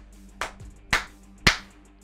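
Three crisp, close hand claps struck on the soft, fleshy part of the palm to imitate a stage slap. They come as sharp, isolated smacks about half a second apart against a near-silent background.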